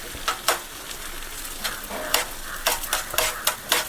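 Egg fries with snake gourd in a pan for a thoran, a close sizzle broken by about ten quick spatula scrapes and stirs in an uneven rhythm, with no voices.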